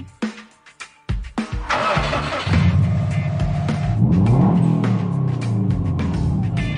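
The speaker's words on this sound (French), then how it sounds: "Une japonaise facilement identifiable par le bruit de son moteur." A powerful Japanese sports car rated at 350 horsepower starts with a few sharp cranking bursts, then catches and settles into a loud, deep, steady engine rumble with rising revs, close to the microphone.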